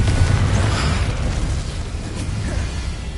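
A Confringo spell blast in Hogwarts Legacy on PS5: a loud, rumbling explosion with a heavy low boom that fades slowly into a crackling tail, followed by lighter game effects.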